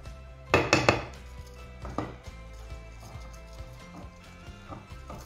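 A utensil beats omelette batter in a bowl, starting with a loud burst of clattering strokes, then settling into lighter, irregular clinks and scrapes close by.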